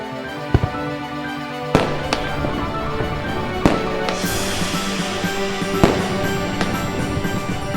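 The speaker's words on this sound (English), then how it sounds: "We had fireworks by South Street side." Fireworks explode on the Fourth of July by South Street in New York City, a series of sharp booms and crackles spaced a second or two apart over a continuous crackling din.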